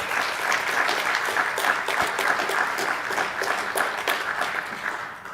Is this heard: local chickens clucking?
no